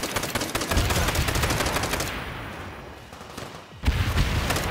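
Rapid machine gun bursts crackle almost nonstop in Call of Duty: World at War co-op, loud and dense, thinning briefly before another burst snaps back in near the end.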